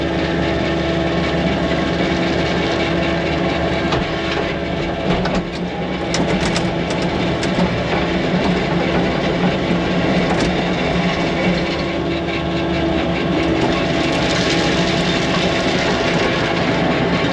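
The engine of a Suihe SSC 72-inch compactor revs with the hydraulics engaged, a loud, steady, droning mechanical roar that holds without a break from start to finish.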